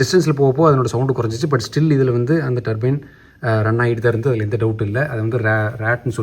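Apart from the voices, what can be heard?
No distinct noise like a dog, phone or traffic.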